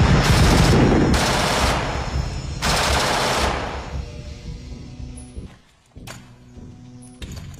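Sniper gunfire from the war film Full Metal Jacket: loud bursts of rapid shots in three long volleys, then quieter with a few sharp single cracks and distant echoes.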